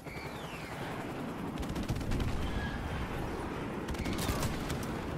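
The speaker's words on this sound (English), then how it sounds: "Friendly airstrike on the way!" A Call of Duty 4 friendly airstrike, heard as a faint, distant rumble of rolling blasts and scattered gunfire under steady battlefield noise, with no talk.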